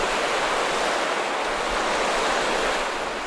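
Ocean surf breaking on a beach during surf fishing, a loud steady wash of broadband roar with no distinct individual waves and no voices.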